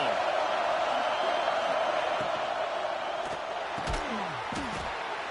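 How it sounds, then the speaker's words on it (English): A stadium crowd roars steadily at a Michigan State versus Michigan football game, a broad, continuous wash of distant voices with a few thuds and bangs breaking through near the end. "This crowd ready to make its presence known."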